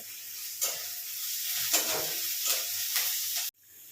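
Mango charu is tempered in hot oil, giving a steady loud sizzle with hissy surges as ingredients hit the pan, then cutting off sharply near the end.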